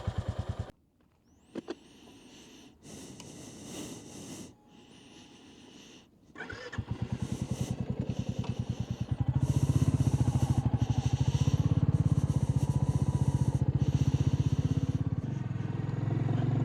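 Royal Enfield Classic 350 single-cylinder motorcycle starting up and being ridden, a quiet gap with clicks giving way to a rhythmic thumping exhaust that grows louder and steadies as it pulls away, with loud wind bursts across the mic.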